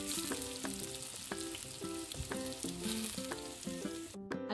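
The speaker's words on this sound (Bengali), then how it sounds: "পটলগুলো তুলে নেওয়ার পর আলুগুলোকে ভেজে আমি তুলে নেব।" Potatoes frying in hot oil in a home kitchen, a steady close sizzle throughout, with tonal music playing over it and a brief break near the end.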